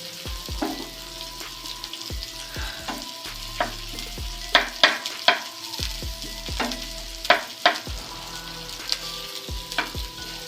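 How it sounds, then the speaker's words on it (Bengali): About ten garlic cloves, onion and chillies sizzle steadily in a hot pan for a yardlong bean bhorta, with a close, continuous hiss broken by repeated sharp clinks and scrapes of a spatula stirring. "আমার সমস্ত মশলা ভাজা হয়ে গেছে।"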